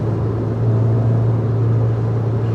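A B18C-swapped 2000 Honda Civic Si cruising in fifth gear, a steady low engine drone and road rumble heard from inside the cabin, continuous and loud with no talking.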